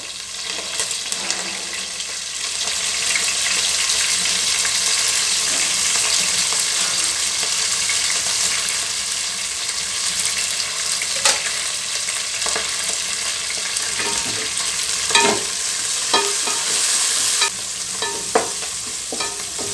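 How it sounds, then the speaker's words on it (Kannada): Finely chopped fenugreek leaves fry and get stirred in a pan with a steady close sizzle, joined by scraping stir strokes that grow sharper toward the end, with no talking. "ಈಗ ಮೆಂತ್ಯ ಸೊಪ್ಪು ಹಾಕ್ತೀನಿ ಸಣ್ಣದಾಗಿ ಕಟ್ ಮಾಡಿ ಹಾಕಬೇಕು"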